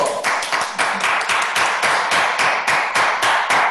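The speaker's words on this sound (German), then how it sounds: "Applaus nach Düsseldorf!" A studio audience at a German TV entertainment show claps in unison, giving a rapid, regular series of sharp, close claps that keeps the same rhythm throughout.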